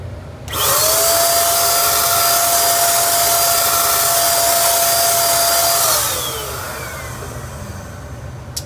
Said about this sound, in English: I'm going to spray a quick light layer of glaze on the top to give it shine